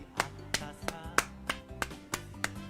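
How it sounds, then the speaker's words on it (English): Eight sharp claps ring out at a steady, slightly uneven pace in a GameCube-era video game trailer, each a crisp broadband snap over a bed of music with sustained tones. "Everybody clap."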